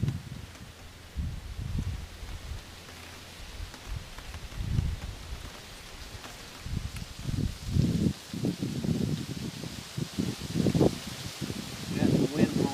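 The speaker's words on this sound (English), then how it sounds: "Got some wind blowing today, which I'm sure you can hear the wind noise." Wind gusts buffet the microphone outdoors at a shooting range, giving uneven low rumbling bursts that swell and fade, with faint rustling and occasional voice sounds underneath.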